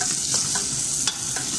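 Onion and tomato sauté in a pan for magloba, a brief close burst of steady sizzling with a few quick stirring scrapes, no speech.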